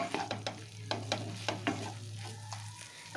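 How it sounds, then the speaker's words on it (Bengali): Jujube and tomato fry together in a pan for a sweet-sour chutney, a spoon stirring in quick repeated scrapes and taps over a steady sizzle and low hum, close up with no talking. "কুল আর টমেটোটা একসাথে বেশ কিছুক্ষণ একটু ভেজে নিলাম, মিনিট 2-3 মতন।"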